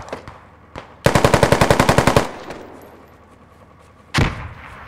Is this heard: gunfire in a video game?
yes